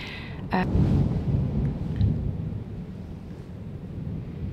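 A deep rolling rumble of thunder during a thunderstorm, starting with a sharp crack and then a long low roar that slowly fades, with steady rain and wind noise underneath.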